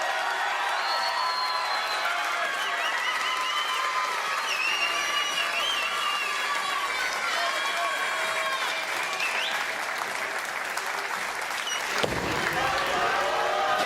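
A crowd applauds and cheers at a professional bowling tournament, steady clapping sustained throughout, with a commentator's voice and a brief sharp crash near the end.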